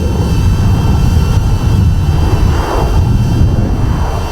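A HOVERAir X1 PRO Max pocket drone orbits nearby, and its propellers give a loud, steady whirring hum that barely changes level throughout, heard close up with no talk.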